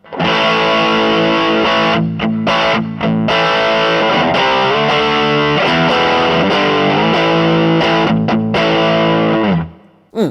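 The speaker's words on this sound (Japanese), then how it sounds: "このマーシャル1959っていうやつが中のねマーシャル系の歪みになっています。" Electric guitar played through the Marshall 1959 distortion model of a Zoom G1-4 multi-effects unit, a loud, saturated riff of sustained chords and notes ringing for about ten seconds, ending abruptly.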